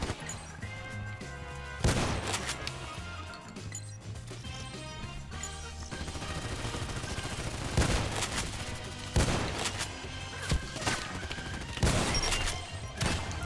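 Franchi SPAS-12 shotgun blasts in the game Contract Wars, a handful of loud, spaced booms standing out over a steady bed of in-game background noise.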